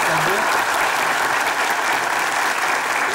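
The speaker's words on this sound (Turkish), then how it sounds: "Hilmi ve Tuğba'ya ayrı bir alkış isterim gerçekten de" Dense, steady applause from a television studio audience, filling the whole stretch at full strength without breaks.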